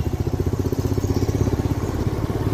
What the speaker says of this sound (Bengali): ভাবতে ভাবতে বাইক চালিয়ে যাচ্ছি